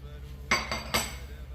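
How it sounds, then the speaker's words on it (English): A metal whisk stirs flour and sugar in a bowl for lapsi, giving a few short, close scraping strokes with light metallic clinks against quiet background. "Now whisking this together using a whisk"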